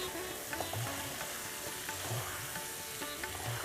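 Meat frying in a pan while being worked for mangsher korma, a Bengali mutton curry: a steady, close sizzle with soft periodic stirring scrapes and knocks throughout.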